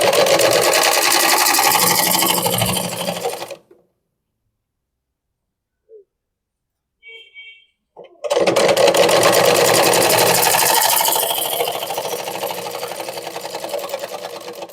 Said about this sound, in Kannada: ಇದು ನೀಟಾಗಿ ಈ ತರ ಹಿಂದಿನ ಬಟ್ಟೆ ಸಿಗೋ ತರ ಹಿಂಗ್ ಫೋಲ್ಡ್ ಮಾಡಿ ಮ್ಯಾಲೊಂದ ಹೊಲಿಗೆ ಹಾಕೊಳ್ಳೋದು